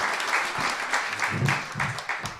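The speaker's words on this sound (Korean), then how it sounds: "박수로 모시겠습니다." A studio audience claps loudly to welcome a political party floor leader onto a Korean talk show, a dense, steady burst of applause lasting the whole stretch with a few faint voices mixed in.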